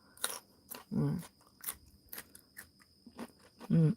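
Crisp butterbur pickle, made with vinegar and salt, is chewed close up, giving a few distinct crunchy bites between quieter stretches, with faint speech around it.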